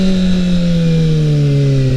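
A 2012 Kawasaki ZX6R sport bike with a straight-pipe exhaust running at a steady speed, its loud, smooth, even engine drone held close up and alone, pitch sliding slightly down.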